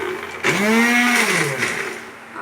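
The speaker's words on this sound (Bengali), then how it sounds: "এই যে আমি মিক্সিতে পেস্টটা তৈরি করে নিয়েছি" An electric mixer grinder whirs up to speed, blending garlic, green chilli and pepper into a paste, a loud steady motor whine with a rising then falling pitch, heard alone.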